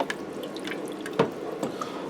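Water from a measuring container trickles and splashes into a Ninja Foodi pot, a soft close pour with a few brighter drips and one louder splash partway through, heard alone.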